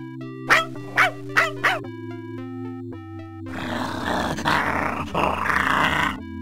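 Cartoonish dog from the Simon the Sorcerer video game gives four short sharp barks over a synth music bed, then breaks into a long, loud, rasping growl.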